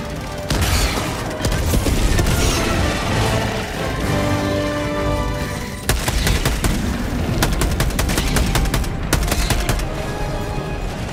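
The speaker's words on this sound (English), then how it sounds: "Throwing grenades!" Rapid bursts of gunfire and heavy grenade explosions fill a Helldivers 2 battle, loud and near, with dense overlapping shots in clusters and repeated sharp blasts.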